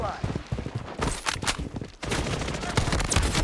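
Rapid bursts of gunfire from a shooting video game played under a no-reload rule, loud and dense with short gaps between volleys, while players talk excitedly over it.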